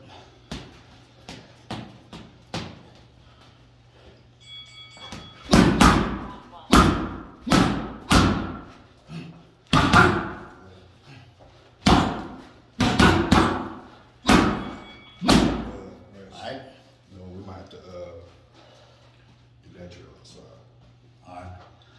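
Punches, including hooks to the body and head, slam into a handheld strike pad in a series of loud, close thuds, some in quick bursts, with pauses between as a voice talks over the training.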